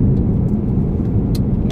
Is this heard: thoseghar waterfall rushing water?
no